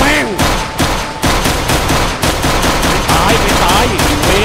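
Rapid pistol gunfire in a video game, a loud, steady run of close shots with sharp regular pulses, with voices and game sounds mixed in.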